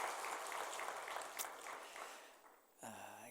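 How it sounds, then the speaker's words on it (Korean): A church congregation applauds in encouragement, a brief patter of many hands clapping at moderate distance that dies away, followed by a short tonal sound at the end. "힘내라고 우리 격려의 박수 한번 하도록 하겠습니다."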